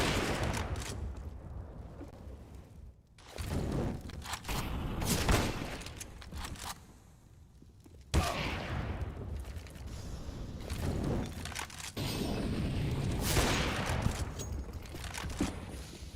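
Rapid gunfire from a CS:GO match bursts out in dense volleys, loud and close, broken by short lulls between exchanges with no talk over it.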